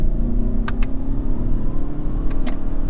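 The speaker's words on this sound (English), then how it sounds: "we're revving out the engine a little" A 2022 Toyota Camry Hybrid engine drones steadily with a low rumble, building as the car accelerates, with a couple of brief higher-pitched whines along the way.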